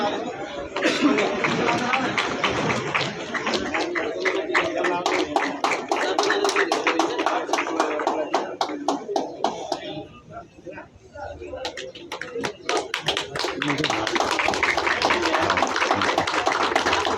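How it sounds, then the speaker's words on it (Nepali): A group of people claps in quick, even rhythm over lively chatter and laughter, with a brief lull near the middle before the clapping picks back up at full strength. "ताली"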